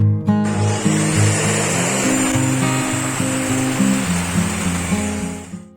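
A tool cuts a 1.5 by 1.5 inch tube to length at 90 degrees, giving a loud, close, continuous whine with a shifting pitch that fades slightly toward the end.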